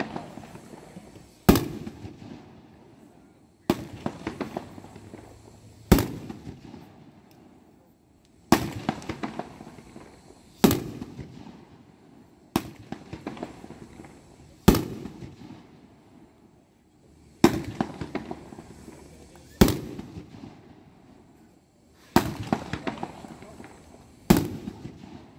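Consumer firework cake named I Love Beer fires nine loud shots at a fireworks expo night show, each sharp launch followed by crackling bursts, spaced a couple of seconds apart over about twenty-five seconds.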